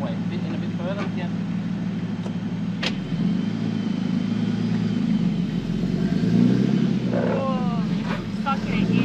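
A Ford Falcon's engine runs steadily as the car drives off-road, a continuous low drone that swells and revs up near the middle, with people talking over it.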